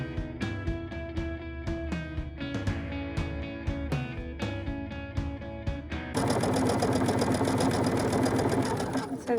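A sewing machine back stitches a fabric kitchen apron. It starts with a slow, rhythmic run of needle strokes, then switches to fast, steady, loud whirring.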